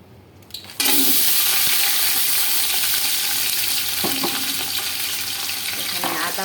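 Whole spices such as bay leaf, cinnamon, cloves and cardamom go into hot oil with onion in a pan for biryani, breaking into a sudden loud, steady sizzle that carries on, with faint stirring clinks.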